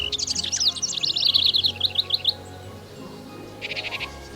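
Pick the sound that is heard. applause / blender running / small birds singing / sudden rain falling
small birds singing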